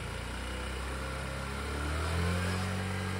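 A 150cc GY6 scooter engine starts and idles with a steady buzzing putter, then its pitch rises slightly as it revs up near the end.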